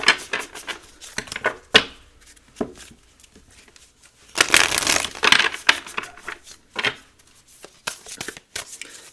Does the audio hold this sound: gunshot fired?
no